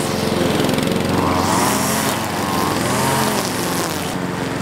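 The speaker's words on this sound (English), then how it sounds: "So I went back to mowing and handed the weed eater off to him." A lawn mower runs steadily and loudly throughout while mowing a garden yard, its engine drone continuous and close with no pauses.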